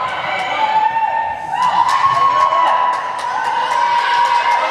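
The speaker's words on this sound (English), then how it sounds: "They're cheering her on." Crowd at a girls' JV volleyball semifinal cheering loudly and continuously, with high shouts and whoops from young voices and rhythmic claps ringing through the gym.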